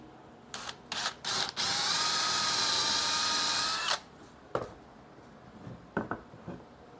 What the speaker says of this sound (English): so I'm drilling a small hole in the center